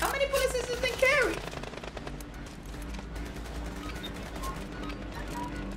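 A light machine gun with a drum magazine firing in a video game. A sharp, loud burst of rapid shots opens the moment, then the shots trail off into scattered reports.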